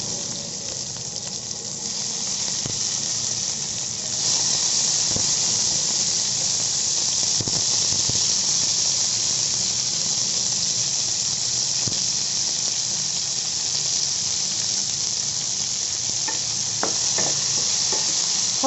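Ginger, garlic and onions fry in hot oil in a home kitchen pan for an aloo matar paneer curry, a loud steady sizzle running throughout with occasional scraping stirs and clinks of the spoon, no voices.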